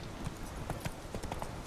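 The horse Roach in The Witcher 3 clip-clops along at an even walking pace, with soft, fairly faint hoofbeats on the ground and no talk over them.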